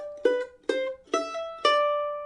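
A mandolin plays the opening bars of the bluegrass tune Cripple Creek, four bright plucked double-stop notes ringing out cleanly and close, the last one left to sustain.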